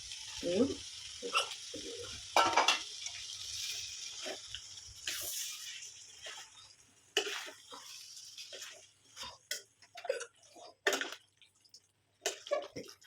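Boiled brinjal sautéing in oil, a faint intermittent sizzle broken by stirring scrapes and clinks of a spoon on the pan, with quiet gaps between bursts.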